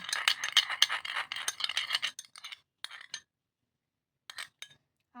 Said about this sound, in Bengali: এইভাবে আবারও সেই সেম প্রসেসে মিক্সড করে নিচ্ছি